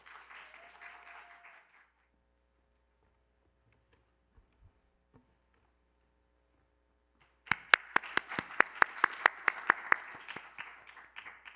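Audience applause for a contestant at a Korean youth speech competition: a brief voice and a long quiet stretch, then a sudden burst of hand clapping that carries on to the end, moderately near.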